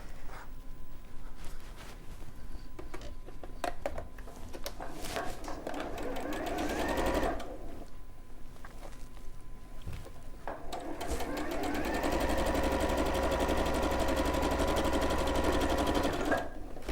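A sewing machine stitches a simple dress in bursts of whirring, with short pauses between runs and a longer steady run near the end, while people talk quietly in the background.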